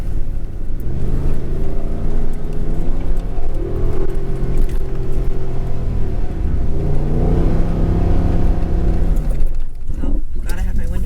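Truck engine revs hard and loud on the Silver Lake sand dunes in Michigan, with repeated rising and falling surges close by, while people talk over it.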